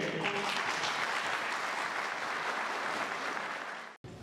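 Hall audience at a graduation ceremony in Bogotá breaks into full applause, a thick, even roar of clapping that carries steadily for four seconds before cutting off abruptly.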